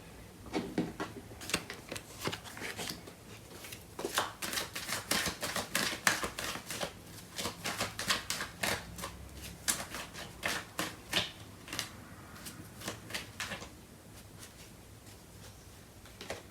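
Tarot cards are shuffled and drawn by hand: a long stretch of quick, crisp riffling and flicking, soft and close, coming in busy bursts with brief pauses between them.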